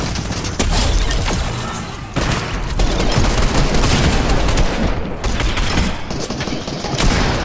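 Dense, loud gunfire from a shooting video game, with rapid overlapping bursts and shots that continue almost without pause through the clip, and no clear talking over them.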